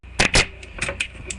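A few quick, crisp snips of scissors cutting parts of a Star Wars Transformers Imperial Shuttle toy, two close together and then several lighter ones, brief and close up.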